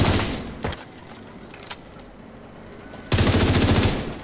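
Automatic gunfire in The Division 2, a rapid burst of close, loud shots at the start, a few scattered single shots, then a renewed heavy sustained volley to the end.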